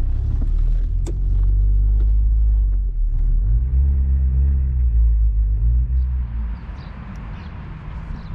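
A car's engine rumbles loudly and close, its pitch rising and falling as it revs through gear changes, then easing to a lighter hum toward the end.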